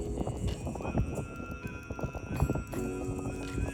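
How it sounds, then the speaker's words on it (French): Semi-wild horses in Mongolia being readied for riding, with steady hoof clip-clops and a neigh close by, heard over a busy outdoor background. "C'est en train de nous préparer les chevaux, on n'a pas le droit de les préparer nous-mêmes parce que c'est des chevaux qui sont semi-sauvages"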